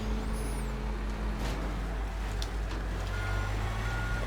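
A truck in the demolition game Teardown reverses with steady repeating backup beeps over a low engine rumble after ramming something, with a few sharp knocks in between.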